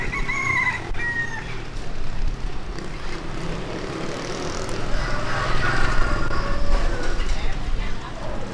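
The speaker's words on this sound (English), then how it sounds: "Roosters crowing." Roosters crow in a busy District 5 street in Saigon, Vietnam, the calls fairly distant and mixed into steady traffic and street noise, with people talking nearby.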